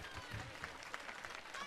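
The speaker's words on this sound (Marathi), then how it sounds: "एकदा जोरदार टाळ्या वाजवून" Crowd clapping at an outdoor Marathi political campaign rally in Baramati, fairly faint and distant, a loose patter of hands mixed with crowd murmur and a voice talking over it.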